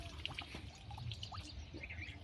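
Fresh borewell water pours and trickles for drinking in a village, a faint, uneven splashing with drips and a few bird calls in the background.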